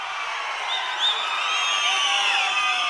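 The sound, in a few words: crowd clapping and cheering at rally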